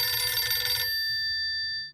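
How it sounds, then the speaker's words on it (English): A telephone bell rings once in a short bright burst, then its tone lingers and fades into quiet. "I was heading home when my phone rang."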